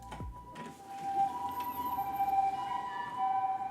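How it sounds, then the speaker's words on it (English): Emergency vehicle sirens wail along a street in Osaka, heard from a hotel room as a steady, moderately distant siren tone over low city noise, with a brief thump at the start. "There's sirens like all the time."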